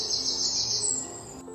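High, thin morning bird chirping rings out continuously over a soft outdoor background in the Kazdağları mountains, fairly close and steady.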